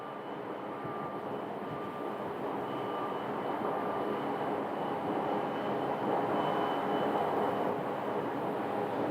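A SkyWest Embraer 175 jet takes off from runway 25 right at Phoenix, a steady, broad engine roar that holds and slowly swells over the whole stretch, with no voices.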